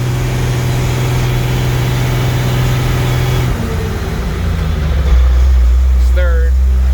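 An International S1900 dump truck's engine labours up a hill at about three-quarter throttle. The steady low drone drops as a gear changes midway, then comes back deeper and louder, with someone talking over it.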